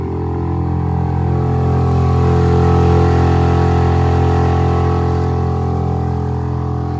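A Yamaha 6H outboard motor on a fixed Panther mount on a Bayfield 23/25 sailboat runs steadily at a constant idle, a loud, even drone with a low rhythmic pulse and no talk.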